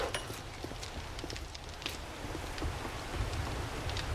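Rain falling in the 7 Days To Die video game, a dense steady patter with scattered sharper drips, fairly faint and continuous, heard alone without talk.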